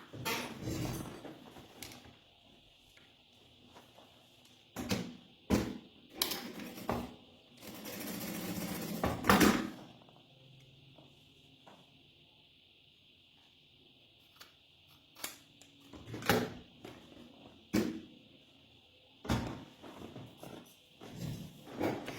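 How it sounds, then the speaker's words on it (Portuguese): A sewing machine stitches a seam on a kitchen cloth in short, loud bursts of rapid whirring that start and stop between quieter pauses with small handling noises. "vamos passar uma costura aqui"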